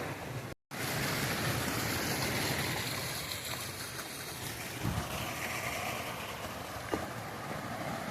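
A forest waterfall along the Algonquin trail, a continuous broad rushing roar of falling water, steady and fairly close, with a couple of faint knocks partway through.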